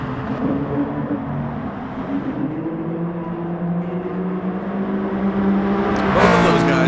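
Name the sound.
race car engine revving in video game Gran Turismo Sport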